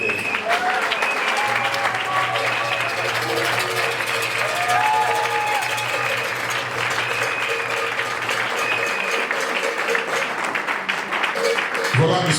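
Sustained crowd applause at a political rally of a national popular coalition, dense clapping and cheering throughout, with a voice talking over it and a steady low hum in the background.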